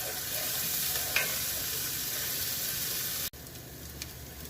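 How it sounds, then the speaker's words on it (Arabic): Onion and garlic sizzle steadily in a frying pan, a continuous close hiss with a faint stir or scrape, briefly cut off near the end before the sizzle resumes. "راح ادبل البصل والثوم علينا البصل يتغير لونه، يصير عندي كده لون ذهبي"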